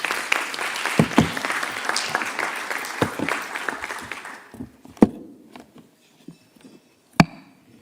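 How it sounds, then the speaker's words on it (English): A conference audience at the Geneva Health Forum gives a warm round of applause. Dense, lively clapping runs for about four seconds, then thins to a few scattered, sharp claps before dying away. "a warm round of applause"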